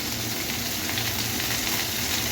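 Fenugreek leaves frying in a small amount of oil in a pan, giving a steady, dense sizzle that holds evenly throughout with no talk.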